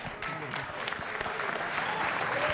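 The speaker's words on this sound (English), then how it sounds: "A round of applause, absolutely." Sustained applause from a boxing crowd at a professional fight card in Australia, a dense steady clatter of many hands filling the whole stretch at a fairly even level.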